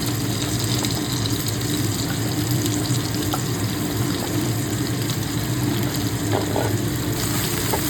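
Eggplant and potato fry in a pan for a Bengali tangra fish curry, giving a steady, dense sizzle and hiss that holds loud and even throughout, with faint clinks and no voices.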